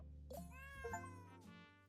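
A cat meows twice in the puzzle game Instants, a soft drawn-out call followed by a second one, quiet and over a faint tonal game backdrop.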